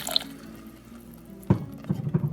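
Water is poured into a Nilgiri vegetable kurma with a coconut-based mint and coriander gravy. A soft splash and trickle start midway, followed by a few dripping, sloshing bursts at close range.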